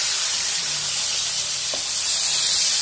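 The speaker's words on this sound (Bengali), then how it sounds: "মাছ ভাজার সময় চুলোর আঁচটা কিন্তু হাই মিডিয়ামে থাকবে।" Rohu fish pieces fry in hot oil in a pan over high-medium heat, giving a steady close sizzle and hiss with a few soft pops and no talk.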